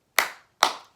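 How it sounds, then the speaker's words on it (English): Two sharp hand claps, close and evenly spaced about half a second apart, each ringing briefly before fading, with the start of a faint third clap cut off at the end; no talking. "Clap, clap."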